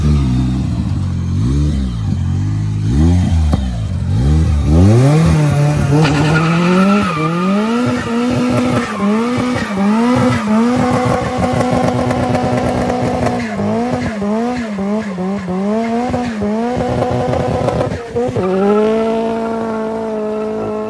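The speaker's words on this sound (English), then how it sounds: "my buddy doing a fat burnout in his S13 with SR20 in it" A Nissan S13 fitted with an SR20 engine does a burnout, its engine revving hard and rising and falling in pitch over loud continuous tire squeal, close and sustained throughout.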